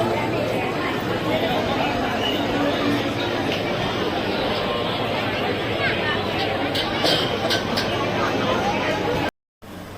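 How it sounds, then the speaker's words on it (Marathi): Dense crowd chatter and babble at a crowded Ganpati pandal in Mumbai during the 2024 festival, a steady loud hubbub of many voices filling the space throughout, with a brief dropout near the end. "गर्दी बघा मित्रांनो"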